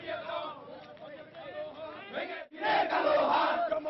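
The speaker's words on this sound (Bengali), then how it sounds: "মিছিল থেকে জামায়াত শিবির বিরোধী স্লোগান দেওয়া হয়" A crowd in a street procession in Bangladesh chants anti-Jamaat-Shibir slogans, many voices shouting together in loud rhythmic bursts, with a short pause before the chanting surges again even louder.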